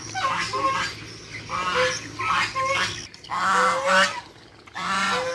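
Two geese in a rural Vietnamese farmyard honk repeatedly and loudly nearby in a series of nasal calls, with a voice speaking in between.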